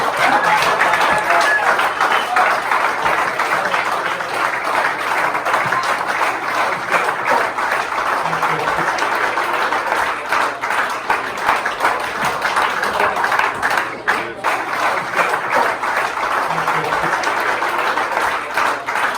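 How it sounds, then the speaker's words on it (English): A crowd applauds with steady, dense clapping that fills the whole stretch, some voices faintly mixed in. "everybody give Coach Sawyer a big round of applause"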